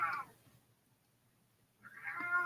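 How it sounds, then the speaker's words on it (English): A cat named Lizette fusses indoors with two drawn-out, whiny meows separated by a pause of near silence, close and moderately loud. "I don't know if you can hear the cat just fussing."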